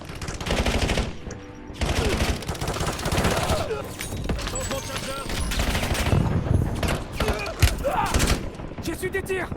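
Automatic gunfire in a Warzone battle royale match, long dense bursts of rapid shots filling nearly the whole stretch with brief lulls, loud and close, with voices speaking over the shooting.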